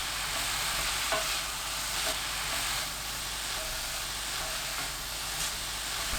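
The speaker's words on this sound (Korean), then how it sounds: "팬에 올리브유 1큰술, 팽이버섯, 토마토 넣고 센 불로 1분 30초 볶아주세요." Enoki mushrooms and tomato stir-fried over high heat in olive oil in a pan, giving a steady, close sizzle with scraping stirs and a few clinks, no talk.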